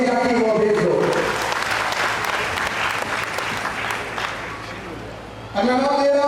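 Audience applause fills a ceremony hall at a Rajput community oath-taking and felicitation event in Udaipur, steady and loud for several seconds between stretches of a voice speaking over a microphone.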